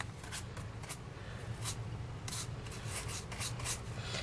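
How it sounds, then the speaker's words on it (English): A stiff bristle brush sweeping loose gilded leafing flakes across a surface, giving soft, quiet repeated scratchy strokes in an irregular rhythm. "just brush the flakes, the excess flakes, over that area and it'll fill in"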